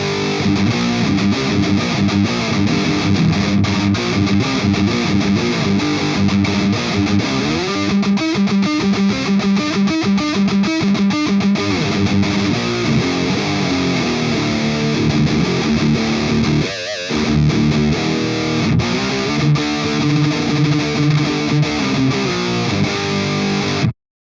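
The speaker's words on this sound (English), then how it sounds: "So I'm using some drive from the Tube Screamer for this one," Electric guitar through a Marshall amp, driven by a Tube Screamer pedal set near noon, plays a dense, gritty distorted riff with sustained chords and chugging notes, loud and continuous, with one brief gap near the end.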